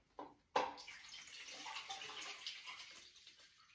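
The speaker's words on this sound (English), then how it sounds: "And then I put in the stop bath." Stop bath pours into a 35mm film developing tank at home after a short knock, liquid gurgling and splashing steadily at close range for a few seconds before tapering off.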